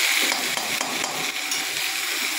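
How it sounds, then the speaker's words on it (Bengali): A paste of ginger, cumin, garlic, onion and green chili fries in a pan for chicken curry, giving a loud, dense, continuous sizzle with light stirring, and no one speaks. "আদা, জিরে, রসুন, পেঁয়াজ, কাঁচা লঙ্কা পেস্ট করা ছিল, আমি সবগুলো একবারে দিয়ে কষতে লাগলাম"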